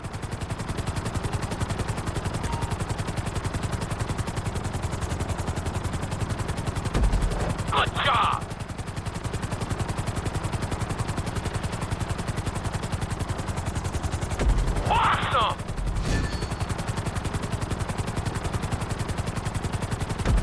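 A steady helicopter rotor drone from GTA V runs throughout, with two short bursts of gunfire-like clatter midway and near the end.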